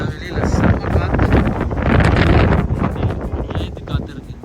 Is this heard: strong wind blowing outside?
yes